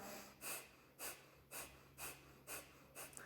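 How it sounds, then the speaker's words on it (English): Rapid Bhastrika-style nasal exhales during a breathing exercise, six sharp forceful puffs of air pushed out through the nose at a steady half-second rhythm, close and alone over a faint low hum. "Pumping through the stomach, pushing air out through the nose"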